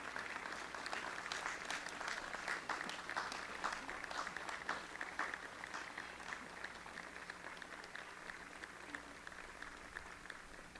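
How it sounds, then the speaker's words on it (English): Sustained applause from a large crowd at a commencement ceremony, dense overlapping claps that hold steady for about ten seconds before tapering slightly. "give them a big round of applause"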